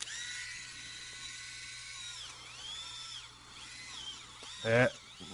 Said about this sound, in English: I'm about to turn on the nano micro petty, and give myself a pedicure